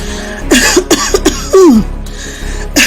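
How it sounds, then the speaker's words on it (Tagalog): Several harsh coughs in quick succession, close and loud, ending in a longer rasping hack and another cough. "mukhang matindi ang ubo"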